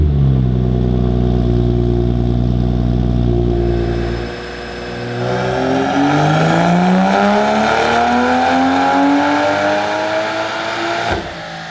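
A tuned car fitted with a high-flow catted downpipe and cat-back exhaust revs loudly on a dyno, idling with a deep drone before climbing in a long, steady pull to a high-pitched wail, then cutting off sharply.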